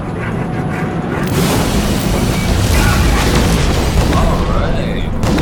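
Missile explosions in the space game No Man's Sky, a dense, continuous roar of booms and blasts filling the whole stretch, loud and close, with a voice faintly present underneath.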